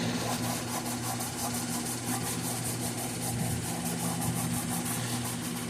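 Briggs & Stratton Intech engine on a General RS800 riding mower runs at a steady idle, a continuous close, even drone with a constant low hum and no speech.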